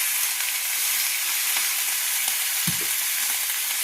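A pan of cucumber and bitter gourd sizzles steadily after water is added, with a close, even hiss and a brief low clunk near the end.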